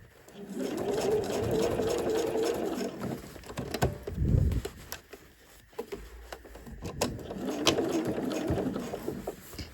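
A sewing machine stitches flexible bias-cut binding around a bag through several layers, running in two close, buzzing bursts with a brief pause and a few clicks and thumps between them.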